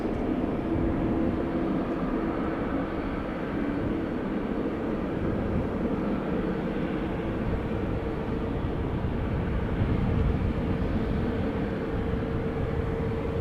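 A TUI airliner bound for Curaçao taxiing toward runway 24 at Amsterdam Schiphol Airport, a steady distant engine rumble and whine held at an even level throughout.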